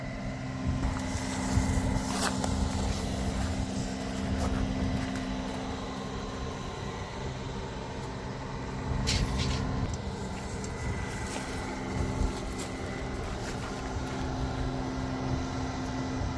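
A log is cut into 16-inch lengths by a steady engine-driven saw, a continuous droning motor hum with slight rises in strain, heard close and without speech.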